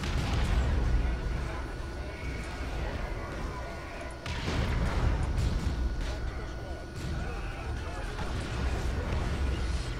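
Repeated heavy laser cannon blasts and booming impacts in Warhammer 40,000: Dawn of War II – Chaos Rising, loud and continuous with a sharp burst around the middle, over a dense roar of battle noise.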